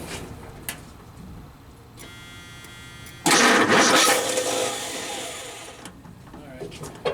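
A 1976 Ford F-250 truck cranks, then its engine catches with a sudden loud roar that settles into a rough idle and fades. Nearby there is faint background chatter.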